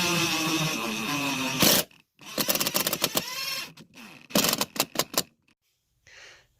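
A power drill drives 2.5-inch Phillips screws into a ceiling joist while a Harbor Breeze Crosswinds II 52-inch ceiling fan goes in, giving a loud continuous whir and then several short, stuttering bursts separated by pauses.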